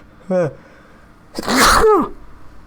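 A single loud, explosive sneeze rings out close by, preceded by a brief vocal sound and trailing off in a falling breathy tail.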